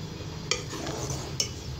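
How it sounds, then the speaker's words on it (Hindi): A spoon stirring vermicelli in a pan over high flame: two distinct metallic clinks against the pan over a soft, low background of gentle cooking noise, close and fairly quiet, with no voices. "हाई फ्लेम करके मैं इसे अच्छे से मिक्स कर लूँगी"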